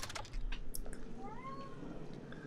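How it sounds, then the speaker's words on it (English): Indoor cat yowling near a computer keyboard, a single drawn-out rising-and-falling meow under soft key taps. "Let's see if we can let some yowly cats in here."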